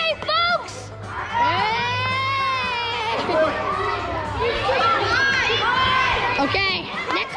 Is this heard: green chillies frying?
no